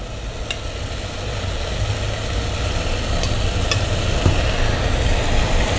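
Shredded leftover fish going into a simmering pot for pirão, with a steady low bubbling sizzle and soft stirring scrapes and a few faint clinks throughout, no talking.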